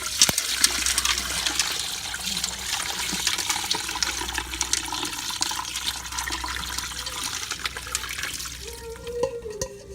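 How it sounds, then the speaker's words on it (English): Brine is poured over a turkey in a pot, producing a steady, close rush of liquid that splashes and fills continuously for about ten seconds before easing off at the end. "let's add my brine to my turkey"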